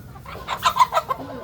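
A gamecock clucks while being picked up by hand in a backyard, a quick burst of four or five short, close clucks with no talk.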